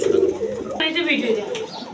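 Pigeons at a seller's loft coo in low, throaty bursts, close and fairly loud, with a voice faintly mixed in among the birds.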